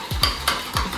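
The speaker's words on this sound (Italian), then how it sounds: "Li sbattiamo con 20 g di zucchero. Li sbattiamo, li amalgamiamo semplicemente." A whisk beats egg yolks with sugar against a bowl in quick rhythmic strokes, three or four distinct scraping clicks, close and fairly loud.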